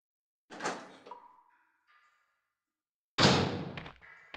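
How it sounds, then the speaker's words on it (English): A door opens in the original Resident Evil on PlayStation: a heavy clunk with a short creaking tail, a pause, then a loud grinding rumble as the door moves, all without voices. "and then the door will open"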